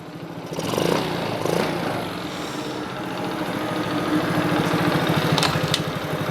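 A quad bike engine idles while it warms up, a steady low putter running throughout at close range, with a couple of brief revs early on.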